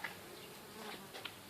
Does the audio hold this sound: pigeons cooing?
no